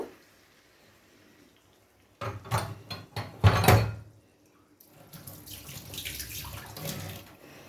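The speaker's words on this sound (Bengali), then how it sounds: "সেই বাটিটা ধুয়ে একটু জল দিয়ে দিলাম, কারণ বাটিটার গায়ে প্রচুর মশলা ছিল।" Tap water runs into a bowl coated in leftover marinade spices as it is rinsed in a kitchen sink. Several loud bursts of splashing come first, then a softer, steady flow of running water continues.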